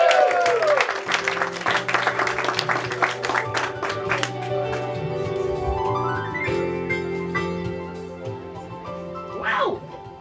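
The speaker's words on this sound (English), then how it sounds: "take that applause you just gave them and give it to Anthony Schuman" Applause from a small comedy club crowd at a stand-up open mic, scattered hand claps over a tonal musical bed, thinning out while a voice rises near the end.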